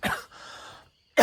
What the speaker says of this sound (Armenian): նենց եմ հազում